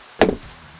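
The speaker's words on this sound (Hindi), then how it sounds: "उसने मेहनत करके लकड़ियां काटी" A single sharp axe chop into dry wood from a large dead tree, one loud close strike with a short woody ring fading into quiet.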